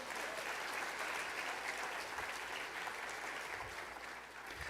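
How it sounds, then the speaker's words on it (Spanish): Church congregation applauding during a sermon, a continuous wash of many clapping hands, steady and fairly distant, tapering slightly near the end with no talk over it. "¿Podemos dar un aplauso al Señor por ello?"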